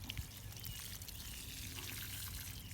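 Water from a 2-gallon bucket pouring onto a freshly half-planted perennial or shrub in soil, a steady, soft splashing trickle heard close and continuous, with no talk.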